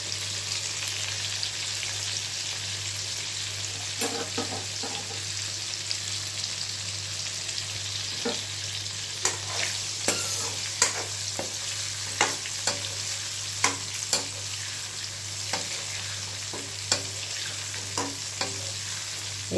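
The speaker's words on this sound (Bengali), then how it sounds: "হালকা ফ্লেমে, লো ফ্লেমে আমি ভেজে নেব" Pieces of food fry in oil over a low flame, giving a steady, close sizzle broken by sharp clicks and scrapes of a utensil, busier toward the end, with no talking.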